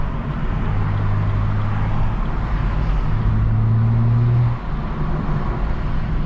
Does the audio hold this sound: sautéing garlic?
no